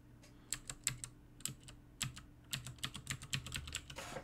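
Quick, uneven keystrokes clatter on a computer keyboard in bursts, close and fairly quiet, with no voice over them.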